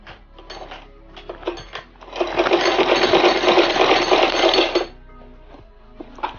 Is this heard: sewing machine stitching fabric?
yes